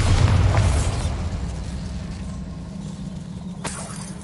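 A Bombarda blasting spell in Hogwarts Legacy goes off as one loud booming explosion at the start, then rumbles and fades, with a brief sharp crack near the end.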